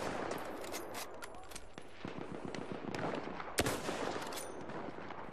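Rapid machine-gun bursts and scattered gunshots ring out in a Battlefield 1 match, dense and continuous, with one sharper, louder crack partway through.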